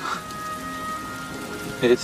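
Steady rain falling during a film scene from Four Weddings and a Funeral, a soft continuous patter with a faint musical tone underneath and a brief voice near the end.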